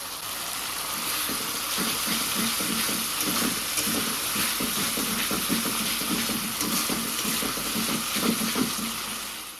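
Turmeric, salt, tomato and green chili sizzle steadily in a hot pan with the spices, the crackle broken by repeated stirring scrapes, close and fairly loud, with no talking.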